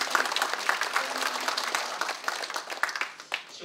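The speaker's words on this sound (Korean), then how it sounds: "박수로 맞아주시면 감사합니다." An audience at an academic veterans' affairs seminar claps to welcome an arriving guest, a moderate, slightly uneven patter of many hands heard from within the hall, with individual claps standing out.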